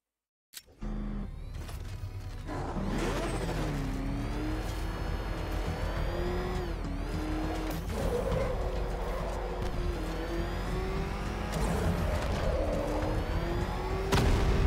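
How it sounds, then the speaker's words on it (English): Batmobile from Batman: Arkham Knight drifting, an abrupt start giving way to a sustained, roaring engine with rising and falling revs and tyre squeal, loud and continuous for the whole stretch, with no talk over it. "Dirty Tricks achieve 3 minutes of drifting in the Batmobile."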